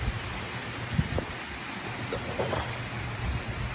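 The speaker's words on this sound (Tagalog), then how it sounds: "Sobrang lakas na ng ulan." Heavy rain pours at night during Typhoon Carina, a dense, steady hiss with scattered nearby drips and taps, no voices.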